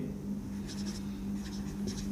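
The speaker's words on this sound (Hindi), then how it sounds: "तो हम लिखते हैं" Pen scratching on paper while a geometry proof is written by hand, soft short strokes in two brief bursts, close and quiet over a low electrical hum.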